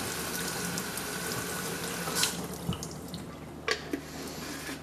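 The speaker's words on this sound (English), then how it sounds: "I want to drain a little bit out and put more water in." Water trickles and splashes steadily while being drained from and poured into a 1961 Jacobson edger, with a few louder pours and drips standing out near the end.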